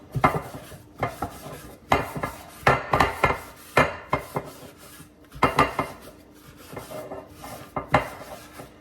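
A metal muffin tin is greased cup by cup for egg muffins, giving repeated scraping and rubbing strokes with light metallic clinks in uneven bursts, close and fairly loud with no talking.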